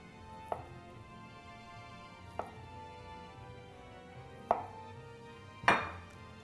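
A knife cuts a block of butter into slices on a board: four sharp, separate taps spaced a second or two apart, the last two louder, over quiet kitchen background without talk.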